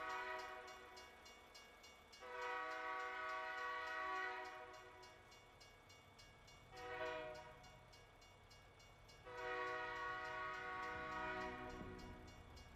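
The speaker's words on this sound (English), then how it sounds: "Actually, sounds like a freight train, too. And it's moving just as slow." A train horn or whistle blows in long, faint, drawn-out blasts, three separate sustained chords with quieter gaps between them, set against a low rumble of slow rail movement in the distance.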